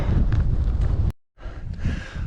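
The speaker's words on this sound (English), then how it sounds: "it's a bit windy, so I've got the old hood up" Wind buffeting the microphone on an exposed hillside on Skiddaw in the Lake District during a hike, a loud low rumble that cuts out abruptly for a moment midway and then resumes in gusts.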